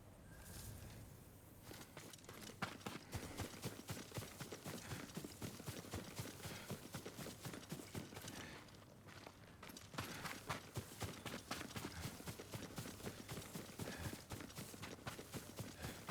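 Horse hooves clip-clop in a steady, brisk rhythm throughout, close and clear, with a few brief pauses in the pace, in the video game Ghost of Tsushima.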